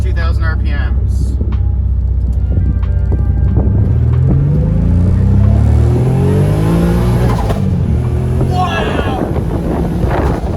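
A turbocharged Nissan G35 engine pulls hard in first gear from about 2000 RPM, its tone rising steadily into a loud rev with wind rushing past, while a voice speaks at the start.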